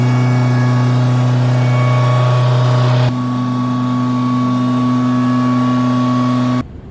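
A turbocharged BMW E36 328 drift car engine holds a loud, steady drone close by, dropping abruptly to a lower pitch midway, then cutting off near the end.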